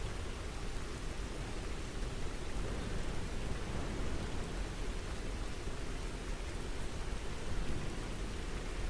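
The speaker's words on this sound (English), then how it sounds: "the rain's relentless patter fades into the background" Steady, relentless rain patter falls evenly and loudly throughout, a dense continuous hiss of drops with no talking.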